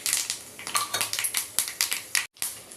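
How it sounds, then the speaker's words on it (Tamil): Mustard seeds and urad dal spluttering in hot oil for a Tamil dal and greens tempering, a fast scatter of sharp pops and crackles close by, with a brief silent gap near the end. "கடுகு, உளுத்தம்பருப்பு போட்டாச்சு. அது நல்லா பொரியட்டும்."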